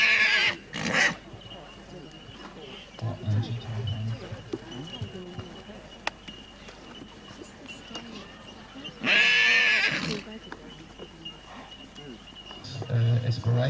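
A horse at a 1996 stud open day gives two shrill, short whinnies, one at the start and a louder one midway, with a person talking steadily underneath.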